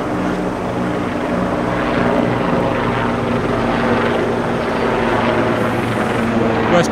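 A Westpac rescue helicopter passes overhead near a rocky swimming spot, its steady rotor thudding and engine drone loud and continuous throughout, with no break.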